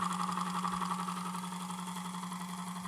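A small homemade generator with magnets set behind its coils hums steadily at high speed, a close, even whirring drone with a fine rapid pulse and no change in pitch, no voices.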